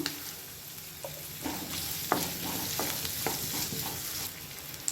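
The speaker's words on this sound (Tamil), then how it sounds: "இப்போது இந்த வெங்காயம் பச்சை மிளகாய் எல்லாம் ஓரளவுக்கு நல்லா வதங்கிடுச்சு" Onions and green chillies sauté in a pan for an egg gravy, a steady sizzle broken by occasional stirring scrapes, close and moderately loud with no talking.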